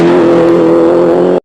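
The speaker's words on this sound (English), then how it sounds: "its engine note, that raw, turbocharged growl, is pure music to the ears of rally enthusiasts" A Toyota Celica GT4 rally car's turbocharged engine roars loud and close in a steady, raw growl that stays sustained, then cuts off abruptly.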